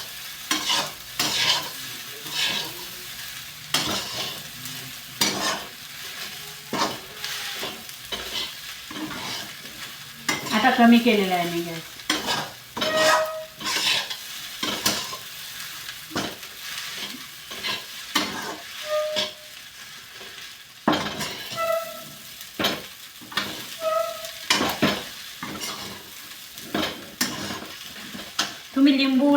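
Tinda and onion bhaji with curd stirred and frying in a kadhai, repeated scraping strokes over a steady sizzle, with someone talking intermittently throughout and short clinks of the pan.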